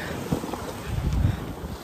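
Strong wind buffets the microphone at a seaside fishing spot in Saipan, a steady low rumble with gusts swelling midway, alone and fairly close.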